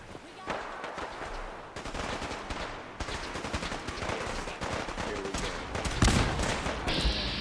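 Gunners shooting in Fallout 4 with the Sim Settlements 2 mod: dense continuous automatic gunfire with rapid bursts and loud individual shots close by, a battle raging throughout.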